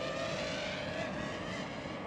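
A DJI FPV drone flies in windy conditions, its propellers a steady, even whine under a broad wash of wind noise, with no talking.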